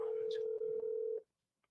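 A telephone number is dialed as a steady tone that plays for about a second, with speech faintly underneath, then cuts off into silence.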